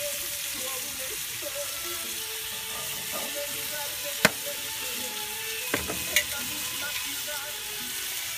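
Smoked salmon cooks on a grill with onion and dressing, a steady hiss of sizzling throughout with a few faint clicks and knocks.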